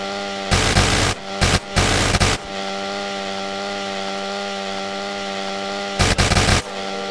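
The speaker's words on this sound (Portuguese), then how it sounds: "Ui, aqui é da motosserra." Chainsaw in the video game GTA Wasteland, a steady idling engine drone broken by several loud revving bursts near the start and end, with no talking.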